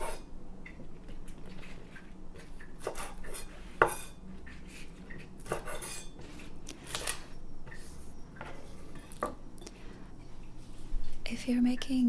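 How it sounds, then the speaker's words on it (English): A knife chops off the ends of napa cabbage while kimchi is being made, giving a few separate close cuts and knocks on a board, with soft whispered talk throughout. "I'm also going to chop off some of the bits at the end that might not look so great anymore"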